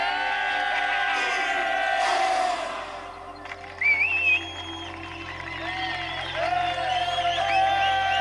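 A cinema audience claps, cheers, whoops and whistles through a loud, continuous crowd roar, with voices rising and falling in the mix.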